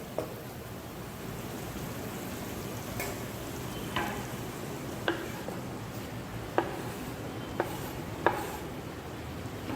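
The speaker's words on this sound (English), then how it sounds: "just mix the spices through with the onions. Let the spices cook a little bit" Onions and spices being stirred in a hot pan, a steady low sizzle running throughout with a few sharp clicks of the spoon against the pan scattered across it.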